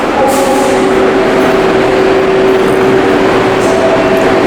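New York subway train at Chambers Street station, a loud, close, continuous roar of the train with a steady whining hum riding over it, no talk.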